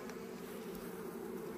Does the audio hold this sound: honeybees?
yes